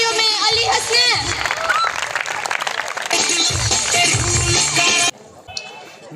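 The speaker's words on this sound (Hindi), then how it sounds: "आपकी भरपूर तालियों में अली हसनैन।" A university crowd claps and cheers loudly for a funny speech, with whistles and shouts, the applause rolling on for several seconds before cutting off abruptly.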